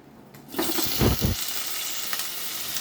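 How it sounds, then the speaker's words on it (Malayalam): Paneer cubes are sautéed in hot oil for mutter paneer masala, giving a loud, steady close sizzle that surges as the pieces hit the pan and stirring briefly scrapes through. "എണ്ണ വെച്ച് ഈ പനിനീരിൻ്റെ പച്ച ചുയ മാറ്റണം അതിന് ഒന്ന് ജസ്റ്റ് വാട്ടിയെടുക്കണം"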